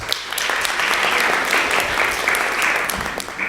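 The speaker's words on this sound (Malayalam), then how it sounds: "Give them clap." An audience claps together at a community anniversary gathering, a dense, steady round of applause lasting a few seconds and fading slightly at the end.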